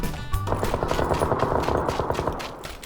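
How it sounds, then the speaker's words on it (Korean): Rapid automatic gunfire in the video game PUBG (Battlegrounds) rattles in a fast, even burst lasting over two seconds, close and loud, with no talking over it. "총소리가 꽤 경쾌하게 나는군요"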